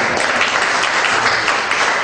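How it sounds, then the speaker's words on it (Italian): Steady, dense applause from a lecture audience, a continuous wash of many hands clapping at even loudness with no talking over it. "un applauso"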